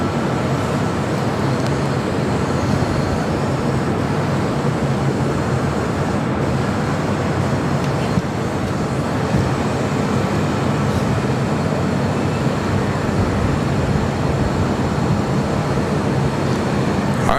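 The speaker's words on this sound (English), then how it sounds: "it's an A321 Neo" A Frontier Airbus A321neo jet at Los Angeles International Airport gives a steady, loud broadband roar that holds evenly throughout without pause or talk.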